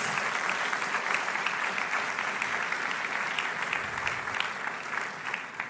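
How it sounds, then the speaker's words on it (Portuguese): Sustained applause from a church congregation, steady dense clapping that fills the whole stretch without pause. "Dê para Jesus uma forte salva de palmas"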